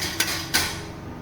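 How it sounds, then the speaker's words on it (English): Two sharp metallic taps about a third of a second apart come from a tool hammering a small cap tight, close and moderately loud against a quiet room. "we can use tools to hammer the cap to be tightly"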